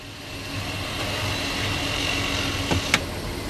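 A 2018 Honda Odyssey with a ZF nine-speed automatic idles steadily and close by while the transmission is cycled through the gears; a low, even engine drone carries throughout, with a couple of faint clicks near the end.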